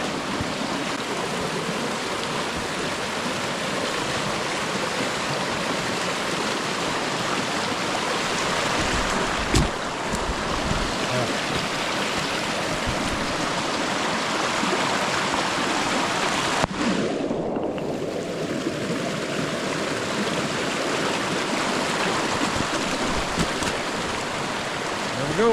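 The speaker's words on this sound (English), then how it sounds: "Well, right in the creek." Creek water flows steadily in wild moose country, a constant broad rushing wash that stays fairly loud and even throughout, with a few brief knocks and no voices.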